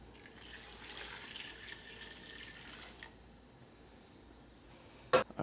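Wine and broth pour into a cooking pot with a steady liquid trickle and splash for about three seconds, followed by quiet and a sharp clink of a container at the end.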